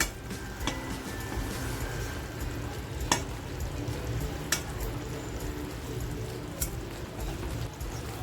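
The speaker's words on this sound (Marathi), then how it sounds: "जी मेथीची भाजी मी तयार करून घेतली होती ती मेथीची भाजी याच्यामध्ये टाकती आहे" Fenugreek greens being added and stirred into prawns sizzling in a pan, a quiet steady hiss with a few sharp clicks, while a dove coos faintly in the background.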